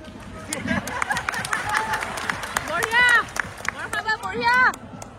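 An audience at a Bihu stage show in Latashil claps, with sharp scattered hand claps over crowd chatter and voices, and louder bursts of people near the end.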